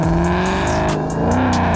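A Lamborghini Gallardo with a custom fabricated exhaust and headers revs loudly and steadily close by, a dense continuous engine roar with slight pitch swells and no talking.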